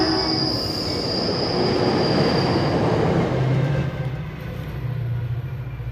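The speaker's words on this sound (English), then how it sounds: "I have to stop for a second while that train goes by." A train rolls past close by, a loud continuous rumble of wheels on rail with a high squeal at first, fading slightly toward the end.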